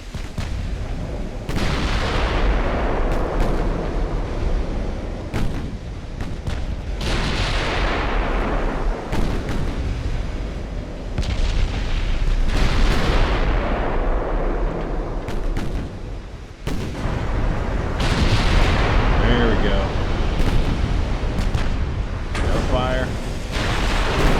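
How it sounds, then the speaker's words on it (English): Heavy naval guns from a whole fleet boom repeatedly in Ultimate Admiral: Dreadnoughts, deep rolling blasts following one another every few seconds over a constant roar of battle, with someone talking over parts of it. "I got my whole fleet firing on this guy."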